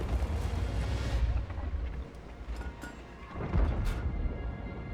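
Tank cannon shot in the World of Tanks video game, a sudden loud boom over a steady rumble of game engine and battle noise, with a second heavy thump a few seconds later.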